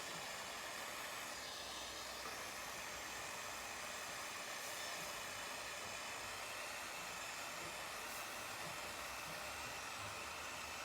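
A torch heats a copper sculpture piece so solder will flow, giving a steady, even hiss of flame that holds at a constant level throughout with no talk.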